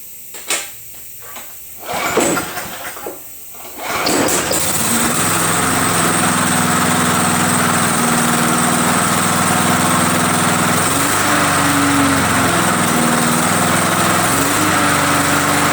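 A Briggs and Stratton small engine with a tank-mounted carburetor, just rebuilt and low on compression, is pulled a couple of times, then catches and runs steadily at a loud, even idle close by, its pitch dipping and rising slightly.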